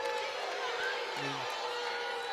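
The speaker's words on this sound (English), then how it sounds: "Crowd not happy." Spectators at a high school basketball game between Pine Forest and Tate give a brief, murmuring groan of displeasure at a foul call, low and spread out across the gym.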